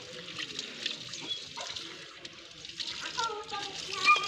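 Water poured and splashing at a moderate distance while a Great Dane is bathed outdoors, with intermittent trickling and splashing, faint and uneven, and no speech heard over it.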